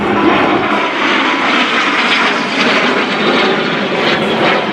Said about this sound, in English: So there's the F-18 pilot, Pirate Mills. He's making that turn